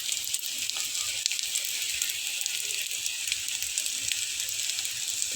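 Bengali snack frying crisp in a shallow layer of oil, a steady fine sizzle and crackle with scattered tiny pops, close and even throughout.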